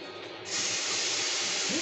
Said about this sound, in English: See that sizzle, y'all? That's what I'm talking about right there.